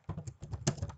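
A short, quiet burst of typing on a computer keyboard: about eight quick, irregular key taps in close succession.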